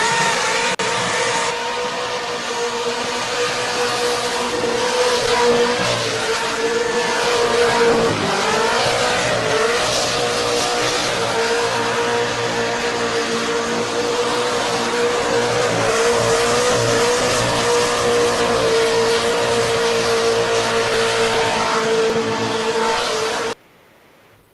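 A car in a burnout video game, its engine held at a high roaring rev while the tires squeal and skid continuously, loud and unbroken.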